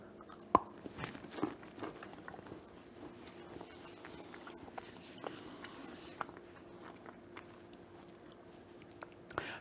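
Mint chocolate bark with graham cracker crumbs is bitten and chewed up close, giving faint, sporadic crunches and soft mouth sounds in an otherwise quiet space.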